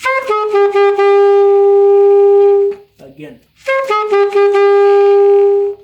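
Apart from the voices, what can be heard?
alto saxophone playing melody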